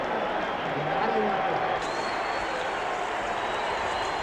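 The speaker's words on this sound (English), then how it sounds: "Just listen to the noise of this crowd." A boxing arena crowd makes a dense, steady roar of murmuring and cheering, heard at a distance and filling the space throughout. A commentator's voice can be heard faintly over it.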